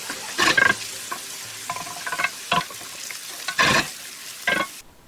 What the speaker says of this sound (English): So here I am adding the chopped onion to olive oil, and I'm just going to cook this down a little bit